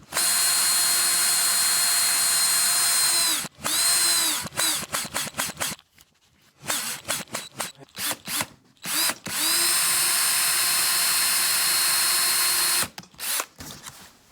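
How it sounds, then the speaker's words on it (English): A power drill whines loudly in long sustained runs, broken by short stop-start bursts and brief pauses, close and with no talking. "Yeah, I need a bigger drill bit."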